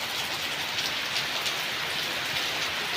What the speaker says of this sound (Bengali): সমানে বৃষ্টি পড়ছে।